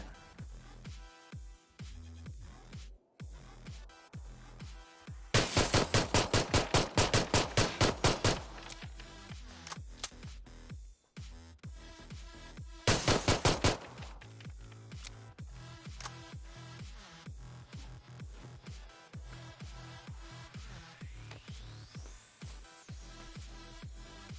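Gunfire in PUBG, including pistol shots, comes as two dense bursts of rapid loud shots amid quieter game sounds and footsteps, with a rising tone near the end.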